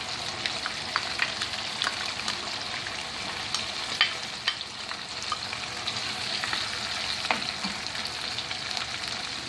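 Chicken and potato pieces fry in hot oil with onion paste for a Pakistani aloo chicken salan, a steady close sizzle with scattered pops and occasional stirring clicks, no voices.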